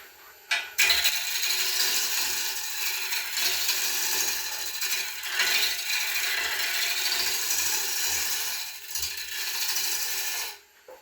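A woodturning tool rides the bevel along a wooden bowl spinning on a lathe, making a loud, continuous scraping and hissing cut that runs steadily with brief dips, then stops abruptly near the end.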